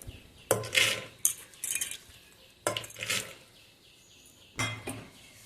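Soaked chickpeas tipped into a metal pressure cooker, giving close, bright clinks and rattles in four short bursts with quiet pauses between them.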